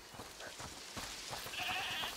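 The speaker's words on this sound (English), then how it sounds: "Is that the goat he talked about?" A goat bleats in A Plague Tale: Requiem, a short wavering cry standing out near the end over a steady bed of ambient game noise.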